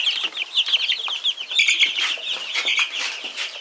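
A crowd of young chickens, a mix of roosters and hens, keep up steady chirping and clucking close by, with occasional wing flutters and no voices.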